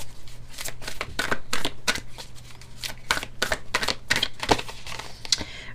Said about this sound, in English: I'm going to pull 2 Oracle deck cards for you.